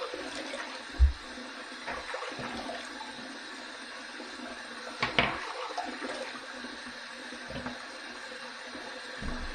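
Water splashing and running as a head is wetted before a head shave, a steady hiss of flowing water with a few louder splashes and bumps close by.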